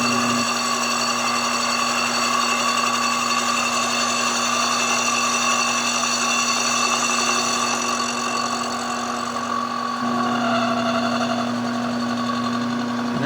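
A 660 cylinder base being machined freehand on a lathe-type setup, the cut taken very slowly; a steady, loud mechanical whine and hum with constant tonal drone, shifting slightly near the end.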